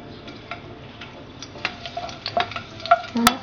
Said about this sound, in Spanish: Ahorita que esté caliente le ponemos los dientes de ajo.